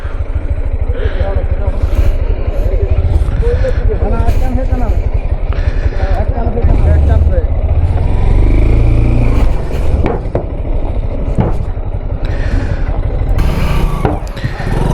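A motorcycle is loaded onto a small river ferry boat, with a steady engine rumble and scraping and knocking as it is moved aboard, while people talk over it close by.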